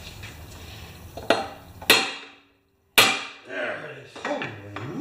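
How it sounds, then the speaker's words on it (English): A hammer strikes a nut threaded onto a metal part of a Craftsman 6.25 lawn mower that leaks oil, giving a few sharp, ringing metallic taps with short pauses between them, up close. "I'm gonna tap it right on the metal now"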